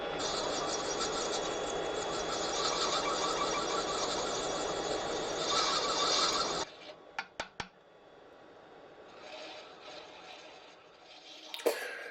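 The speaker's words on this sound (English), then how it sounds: "Gently moving the tool from left to right so that it's like a shearing action definitely improves the cutting" A straight carbide woodturning tool, unsharpened, shears across a spinning wooden hollow form on a lathe, giving a loud, steady, rasping cut for about six seconds before it stops abruptly, followed by a few sharp taps and a quieter rustle.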